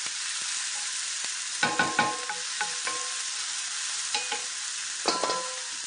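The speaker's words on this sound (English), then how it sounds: "So we'll just saute these right quick" Chopped vegetables for cornbread dressing fritters sauté in a hot pan, a quiet steady sizzle broken by a few clusters of spatula scrapes and taps.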